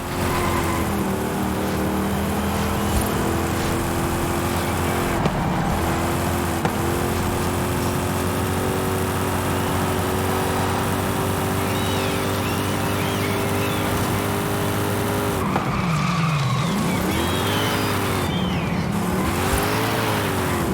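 Car driving in Forza Horizon 5, an old car with a steady loud engine drone, with tires squealing and skidding in bursts toward the end as the engine pitch swoops down and back up.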